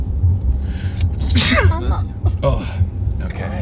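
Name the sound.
sneeze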